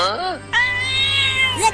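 A cartoon cat meows in a short sequence: a brief mew, then a longer, drawn-out meow with a rising and falling pitch, close and clear.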